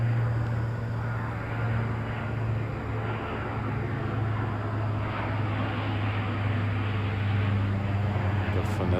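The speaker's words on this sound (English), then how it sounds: "Definitely, I think, military airplane." A military airplane flies overhead during a night walk in Japan, its engine a steady low drone over street ambience while someone talks.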